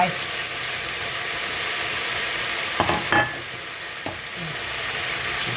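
Chopped onion sizzles steadily in a hot pan for a Thai stir-fried basil dish, with a few louder scraping stirs near the middle against the constant frying hiss.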